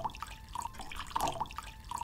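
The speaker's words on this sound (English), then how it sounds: "this sounds like water falling into a bowl, not a glass cup" Film sound effect of water falling into a glass cup: a run of bright, close drips and small splashes in an irregular rhythm, with no voices.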